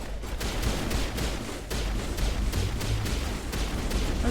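Gunfire from the sci-fi shooter Mass Effect: a steady string of sharp pistol-like shots at an even rhythm over a dense background of battle noise, loud and without voices.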